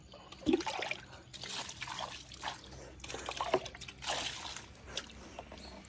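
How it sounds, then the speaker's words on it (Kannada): Waste water from an Aquaguard water purifier trickles and drips unevenly, with small splashes and sloshes coming in bursts over several seconds, fairly faint and close by. "ಅಕ್ವಾಗಾರ್ಡಲ್ಲಿ ಬರುತ್ತಲ್ಲ ವೇಸ್ಟ್ ವಾಟರು, ಅದನ್ನು ವೇಸ್ಟ್ ಮಾಡೋಂಗಿಲ್ಲ ಅಂತ ಹೇಳ್ತಾ ಇದ್ದಾರೆ"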